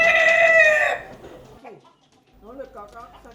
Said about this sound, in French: ils marquent non combien de fois le coq a chanté